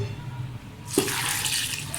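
Water suddenly gushes in after a brief quiet moment, two glasses pouring steadily and splashing into a pressure cooker of spiced minced meat.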